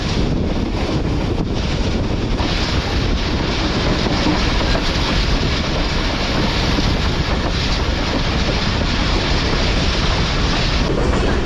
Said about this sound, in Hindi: एक लेफ्ट कर्व लेते हुए हमारी ट्रेन पहाड़ से नीचे उतर रही है आहिस्ता आहिस्ता